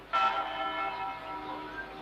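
A train in an animated cartoon sounds a sustained, harmonic horn or whistle that starts abruptly and holds steady for about two seconds, loud and fairly close, with a slight fade toward the end.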